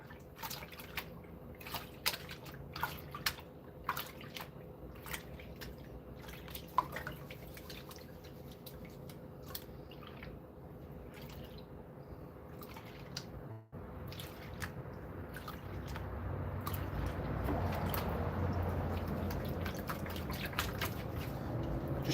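A gold pan of pay dirt is shaken in water, giving scattered drips and small splashes that build into a steadier sloshing, swishing wash of water and gravel toward the end.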